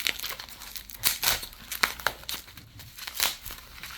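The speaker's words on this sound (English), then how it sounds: "I don't have any scissors on me, so just have to rip it open somehow." Packaging for a 2024 one-ounce Gold Britannia coin is torn open by hand, without scissors, giving a run of close, sharp crinkling and ripping bursts with brief pauses between them.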